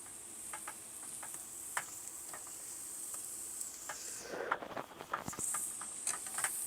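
Meat frying in a single pot inside a van, a faint steady sizzle with light scattered ticks, then louder scraping and stirring as pieces are moved off the bottom of the pot.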